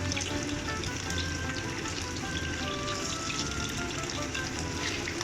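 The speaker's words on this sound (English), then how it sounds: "Fry until both sides of the chicken has turned" Chicken pieces frying in a wok over medium heat, a steady, even crackling sizzle of hot oil that continues without pause throughout.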